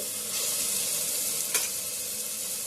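Ground masala paste fries in hot oil in a pan for chicken curry, a steady loud sizzle swelling after a moment, with one brief stirring scrape midway, close and without voices.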